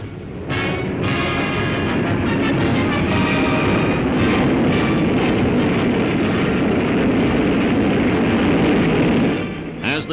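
Wartime heavy bomber aircraft return from a raid on the Pas-de-Calais flying bomb sites, a loud, steady roar of massed engines filling the scene for about nine seconds before easing off near the end, with no talk.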